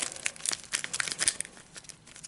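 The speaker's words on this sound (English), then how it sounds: "So let's get the gate deck. Here it is, and a perfunctory shuffle." Cards from an Arkham Horror 2nd Edition board game deck being shuffled by hand: quick crisp riffling and papery flicks in uneven bursts, close and fairly loud, with no talking.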